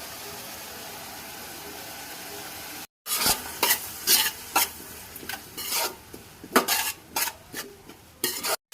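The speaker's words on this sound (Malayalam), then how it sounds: "ഉള്ളിയൊക്കെ വറണ്ട് വന്നിട്ടുണ്ട്. കുറച്ചുകൂടി വറണം നല്ല രീതിയിൽ." Onions frying with ginger-garlic paste and green chillies for a Kerala chicken curry sizzle steadily in a pan, then a spoon scrapes and stirs in a series of close, sharp strokes over the hiss. No one speaks.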